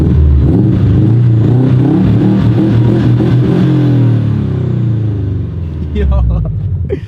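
A Subaru STI fitted with an Invidia G200 exhaust is feathered up to about 5,000 RPM, its loud, close engine note rising and burbling steadily before easing off near the end.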